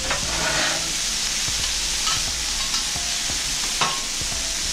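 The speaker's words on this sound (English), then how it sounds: "I want these onions and mushrooms and peppers to be good and sauteed, real soft, real good" Onions, mushrooms and peppers sautéing in a pan over medium-high heat, a loud steady sizzle and hiss with occasional spatula stirs and scrapes close by.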